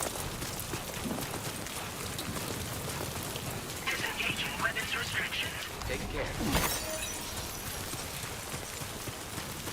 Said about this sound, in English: Oh shit, the rain